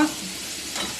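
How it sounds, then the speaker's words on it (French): Lardons for a quiche fry in a pan, giving a brief, steady close sizzle of moderate loudness with no talking. "Je vais rajouter quand même les lardons."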